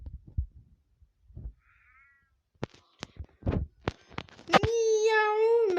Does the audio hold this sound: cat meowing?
yes